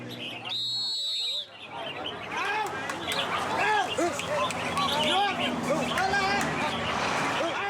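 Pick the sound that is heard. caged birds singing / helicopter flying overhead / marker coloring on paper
caged birds singing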